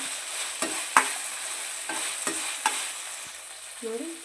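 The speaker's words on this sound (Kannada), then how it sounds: "ಸ್ವಲ್ಪ ಫ್ರೈ ಮಾಡ್ಕೊಳ್ಳೋಣ ಸ್ಮೆಲ್ ಹೋಗೋವರೆಗೂ" Ginger garlic paste fries in hot oil for veg fried rice, giving a steady soft sizzle broken by several sharp scrapes and taps of a spoon stirring the pan.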